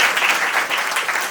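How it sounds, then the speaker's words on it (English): Brief, dense audience applause at a One Fair Wage restaurant event on The Hill, thanking the event servers. The clapping is lively and close and carries through the whole short burst with no talk. "Let's give them a round of applause."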